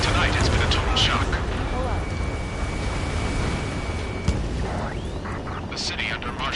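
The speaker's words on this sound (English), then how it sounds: "Gunfire and the roar of jets echoing through the streets." Dense, rumbling battle noise of gunfire and jet roar in a city in Ace Combat 7: Skies Unknown, with a roaring wash and scattered bursts, one sharper crack near the end, continuous and loud throughout.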